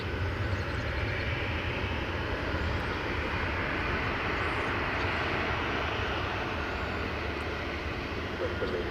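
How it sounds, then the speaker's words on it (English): American Airlines flight arriving from Salt Lake City at DFW Airport at daybreak: a distant, fairly faint steady jet roar lasting throughout, with an even wash of engine noise and no clear peaks. "thank you for showing American Flight 1214 coming in from Salt Lake City"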